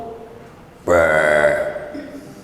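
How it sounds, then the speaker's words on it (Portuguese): A loud, drawn-out burp bursts out after a quiet moment, holding a rough, voiced tone for about a second before trailing off, with no talking over it. "para provar que você está satisfeito, você tem que dar um arroto"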